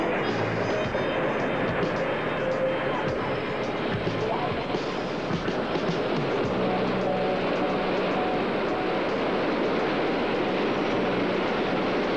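A tourist train pulls in with a steady, loud rumble of wheels and rail cars that holds across the whole stretch, broad low noise with faint voices mixed in underneath.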